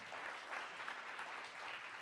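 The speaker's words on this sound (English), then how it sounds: "So let's give Zach one more round of applause." A brief burst of steady applause from a science café audience, dense clapping throughout with no voices.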